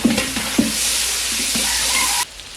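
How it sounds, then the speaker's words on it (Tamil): Onions and curry leaves sauté in mustard oil with a steady close sizzle, a few scraping stirs at the start, then the frying cuts out suddenly near the end. "நல்லா வெங்காயத்தை வந்து கொஞ்சமாக வதக்கிக்கலாம்"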